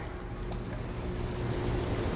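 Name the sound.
ship elevator rising in the video game Dishonored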